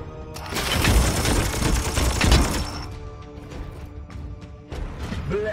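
Rapid bursts of gunfire in the game Warhammer 40,000: Chaos Gate – Daemonhunters rattle loudly for a few seconds, then fade into scattered mechanical clicks and thumps.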